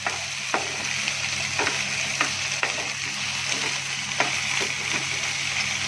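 Okra (bhindi) frying in hot oil in a pan, a loud continuous sizzle with regular stirring scrapes and clicks throughout, and no talking.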